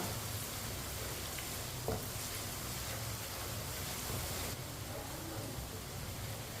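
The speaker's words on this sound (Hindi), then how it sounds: "प्याज और लहसुन को 3-4 मिनट के लिए पका लेते हैं।" Chopped onion and garlic frying over medium heat in a pan and stirred with a spoon, a soft continuous sizzle with faint scraping, fairly quiet and steady.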